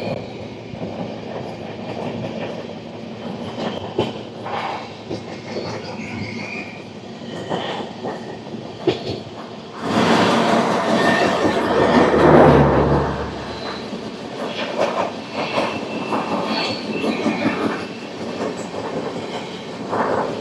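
Narayanadri Super Fast Express, train 12734 on the Lingampalli to Tirupati route, heard from aboard as steady rail rumble and wheel noise, growing louder and rougher midway before settling back to a continuous ride.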